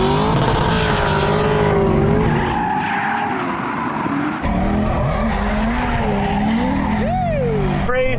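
A V8-swapped BMW E36 drifts at Lone Star Drift in Texas, its engine roaring loud and close with wavering tire squeal rising and falling throughout.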